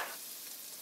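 Korean beef sizzling as it is reheated in a pan: a brief, close, steady hiss of frying with no voices.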